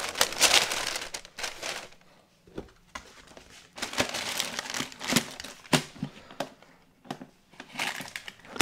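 Paper crinkles close by as it is packed around a gecko egg container on perlite substrate, in irregular bursts of rustling and crackling with short quiet gaps between them.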